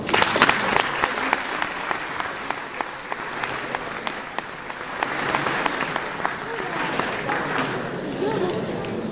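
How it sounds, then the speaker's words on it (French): An audience applauds at a town hall New Year's greetings ceremony in Aigues-Mortes, with many sharp claps merging into a long, even ovation of moderate loudness and a faint murmur of chatter beneath. "Je crois qu'on peut l'applaudir."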